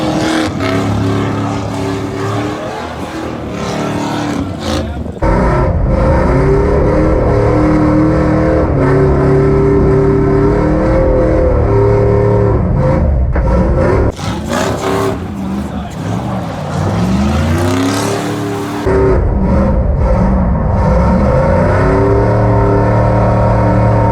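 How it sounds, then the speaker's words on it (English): A Jeep ZJ does a burnout in a burnout pit, its engine revving hard in repeated rising and falling sweeps over a steady roar, loud and close, with brief drops between bursts and people talking in the background. "I figured I'd try the burnout pit"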